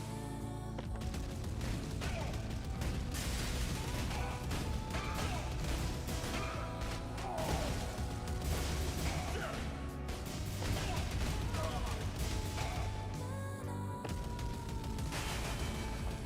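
Gunfire in the Switch 2 shooter Neon Inferno: continuous rapid shooting and crashing hits under game music and effects, with a quiet voice occasionally talking.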